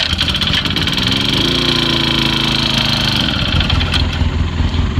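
A sprayer's small engine runs loudly and close, a steady buzzing drone whose pitch rises briefly as it revs before settling back to a rough idle.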